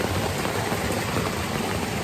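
Steady rain falls all around with a dense, even hiss and patter, continuous and fairly close with no voices.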